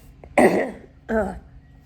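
Two short, close coughs, the first stronger and rougher, the second lighter, about a second apart, with near silence around them.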